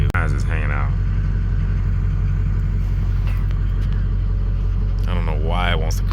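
A truck with throttle and brake-related engine faults drives along, its engine giving a steady low rumble that continues unbroken beneath intermittent talking.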